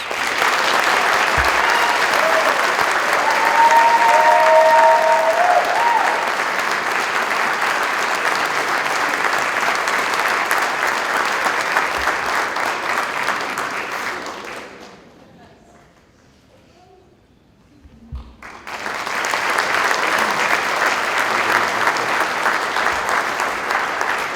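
Loud, sustained applause from a large audience at a high school athletics hall of fame induction, dense clapping that dies away for a few seconds of near silence before swelling back up just as strongly.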